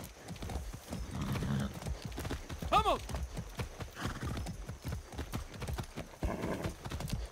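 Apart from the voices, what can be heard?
horse galloping hooves in Far Cry 6 video game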